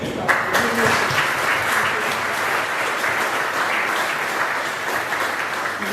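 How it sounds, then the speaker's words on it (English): A room full of people at a chamber of commerce assembly applauding, loud and steady for several seconds, the clapping blending into a continuous wash. "I just want a round of applause for Chris."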